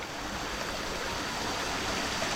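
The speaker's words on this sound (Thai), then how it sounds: "นี่ครับผมหลังจากที่ฝนตกเนาะนี่น้ำไหลแล้วครับ" Water in a forest stream after rain rushes steadily and fairly loudly, a constant babbling flow with no voices.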